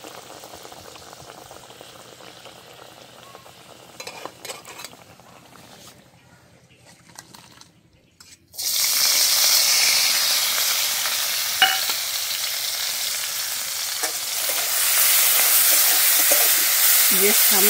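Shrimp frying in a pan for a shapla dish, quiet stirring at first, then a loud, steady, broadband sizzle bursting in midway and continuing hot and dense to the end.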